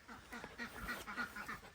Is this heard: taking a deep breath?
no